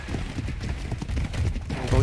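Rapid hoofbeats of a horse in the video game Ark: The Lost Island thud in an uneven, galloping rhythm close by, with a heavier rumble toward the end.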